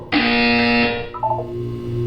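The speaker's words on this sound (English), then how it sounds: "When you hear the buzzer, look up at the ceiling." Buzzer from the video game Portal 2: a loud, steady harmonic electronic buzz lasting about a second, followed by a softer, lower tonal chime that fades out, with no talking.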